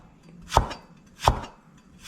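A knife slices through a vegetable onto a cutting board in two sharp, evenly spaced chops, close up with quiet between strokes.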